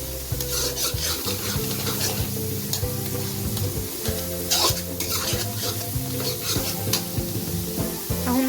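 Homemade masala spices frying and being stirred in a pan for a soya chunks curry, a steady close sizzle with continuous scraping of the spoon against the pan.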